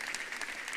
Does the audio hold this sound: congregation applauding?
yes